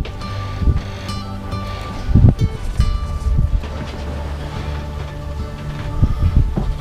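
Steady crosswind of about 7 knots rushing over open water near Grenada, with waves slapping and hull noise from a sailing boat under sail without engine, a continuous breezy roar with occasional gusts.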